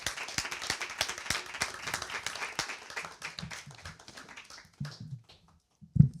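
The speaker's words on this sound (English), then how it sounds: "we're gonna go ahead and clap him up" Audience clapping at an open mic night: a smattering of distinct claps from a small crowd that thins out and fades to near silence, ending with a single low thump.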